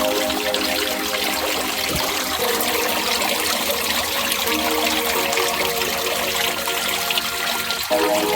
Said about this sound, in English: It's a lot of water flowing in there.